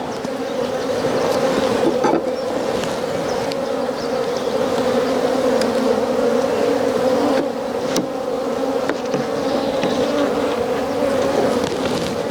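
A steady, close drone of many honey bees hums around an open hive while its frames are inspected, with occasional louder buzzes as single bees fly past.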